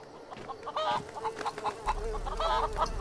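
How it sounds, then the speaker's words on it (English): Chickens in the video game Defiance clucking and squawking in short bursts, close and fairly clear over a low game background. "Chickens."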